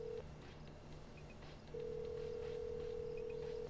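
In the video game Road 96, a phone call rings unanswered as a steady electronic ringback tone, one brief beep and then a long sustained tone, faint and alone.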